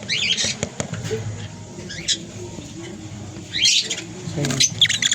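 Wild type green lovebirds in an aviary give short, scattered high chirps and squeaks, some close and sharp, others faint, over a low background murmur, with brief pauses between the calls.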